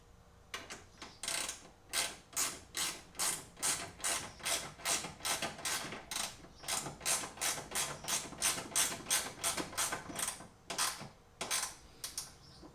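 A ratchet wrench tightens a 10mm bolt during a cold-air intake install on a Subaru WRX STI, giving a rapid, even run of close metallic clicks that stops briefly near the end before a few final clicks.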